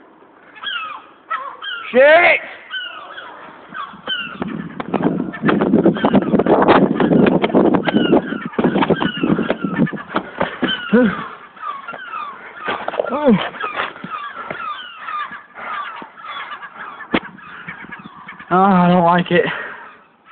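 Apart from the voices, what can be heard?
seagulls calling and attacking on a roof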